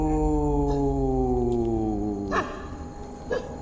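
A dog howls at night at a reputedly haunted palace in India, one long sustained wail sliding slowly downward, close and loud, followed by a couple of short yelps.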